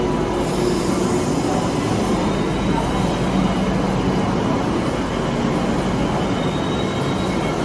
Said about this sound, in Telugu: మెట్రోలో అయితే వెళ్తున్నాము.